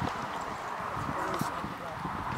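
Horse cantering in a riding arena, muffled rhythmic hoofbeats under a rider and an instructor talking throughout.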